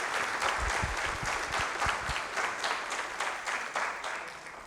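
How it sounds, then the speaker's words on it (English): An audience applauds at a high school senior awards ceremony, steady broadband clapping sustained throughout with a few louder, closer hand claps standing out near the start. "Please, would you give them a round of applause?"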